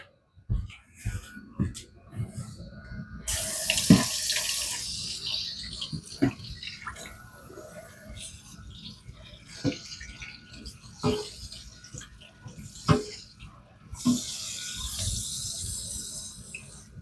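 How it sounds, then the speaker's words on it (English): Water sprays in bursts to rinse a freshly sharpened knife, hissing spurts separated by quieter gaps with drips and clatter, someone talking at times. "Let me spray this off."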